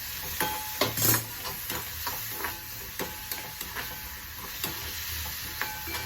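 Onion sautéing in a pan with salt and turmeric powder, a steady close sizzle broken by repeated scraping and tapping strokes of a spoon against the pan.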